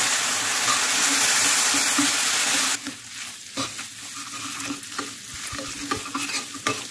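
Sugar and a little water stirred in a kadhai for Mathura-style peda, a steady loud sizzling scrape for a few seconds, then softer uneven stirring scrapes and faint bubbling.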